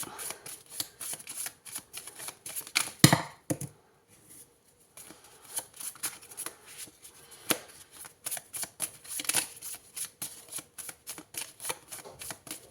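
Cardboard tarot cards being shuffled by hand in quick rhythmic riffling bursts, close and crisp, with one louder slap and a short pause early on, then steady repeated shuffling with no talking.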